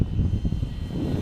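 A foam-board FT P-51 Mustang RC model warplane flies with a steady propeller and motor drone outdoors, likely in wind, holding an even, continuous level without talk.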